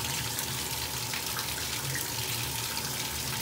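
Tap water runs steadily while an English bulldog with a skin infection is bathed, a continuous close splashing flow into the tub with no talking over it.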